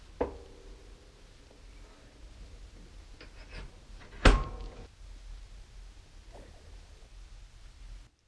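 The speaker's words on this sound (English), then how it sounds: "close the door" The loading door of a wood stove swings shut with a single sharp metallic thunk midway through. Before and after it there is only a faint, quiet room hush and a few soft clicks.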